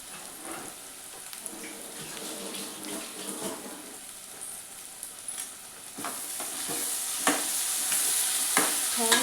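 Chicken curry with fresh coriander being mixed in a frying pan over a high flame, repeated spatula scrapes and knocks above a soft sizzle that grows louder and fuller toward the end.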